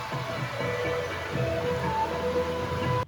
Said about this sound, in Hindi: अभी वाली जो बारिश है ना वो बहुत तेज़ हो रही है।